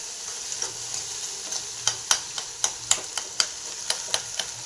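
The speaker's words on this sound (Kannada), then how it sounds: "ಇವಾಗ ಅದರೊಳಗಡೆ ನಾವು ಈ ಎಗ್ ಹಾಕ್ಕೋಬೇಕು." An egg frying with cooked vegetables in a pan, a steady sizzle broken by a run of sharp, evenly spaced scraping taps as a spatula stirs it close up.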